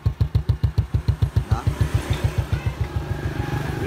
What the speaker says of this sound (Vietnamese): cái tiếng máy nổ rất là êm, rất ngọt luôn